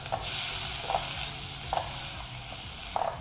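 A spoon stirs and scrapes corn along the bottom of a pot while the contents sizzle steadily, with a few distinct scraping strokes about once a second and no talking.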